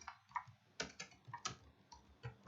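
Faint, close keystrokes on a computer keyboard, a short irregular run of light clicks and taps typed into a web page editor, with no one speaking.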